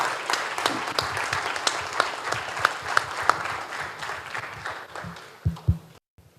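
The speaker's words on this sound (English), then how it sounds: "giving a warm welcome and a huge round of applause for Padma Bhushan Shri Nambi Narayanan" Sustained audience applause greets Padma Bhushan Shri Nambi Narayanan as he takes the stage at a ceremony, a dense, steady clatter of many hands with a few sharper claps, tapering off briefly before a short final burst and cut.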